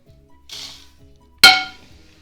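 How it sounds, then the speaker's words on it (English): A clip-top lid on a large Kilner-type glass jar makes a soft brushing rustle, then one sharp, close glassy clank that rings briefly and fades, with no talking. "I'm using a large Kilner type jar with a clip top lid."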